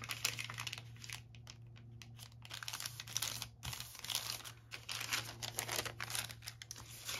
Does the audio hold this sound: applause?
no